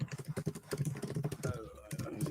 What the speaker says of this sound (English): So I'm sorry if it is loud because I'm typing on the keyboard.